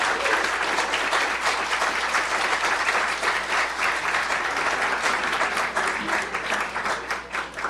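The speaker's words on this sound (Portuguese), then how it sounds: "Um salve de palmas, por favor." Sustained applause from a large audience at a debate event at Harvard, dense and steady clapping filling the whole stretch without a break.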